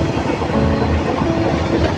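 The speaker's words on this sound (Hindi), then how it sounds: "ये जस्ट ट्रेन क्रॉस कर रही है अभी गाड़ी" A train passing through Sarmatand station, a loud close rumble with rolling wheel clatter on the rails that stays steady and continuous, with no voices.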